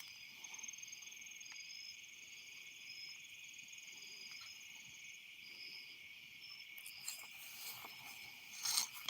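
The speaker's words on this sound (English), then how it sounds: "A lot of bugs." Crickets and other insects chirring steadily in tall grass on a dark night outdoors, a continuous high-pitched drone with layered trills, moderately distant and even, with a faint rustle near the end and no talking.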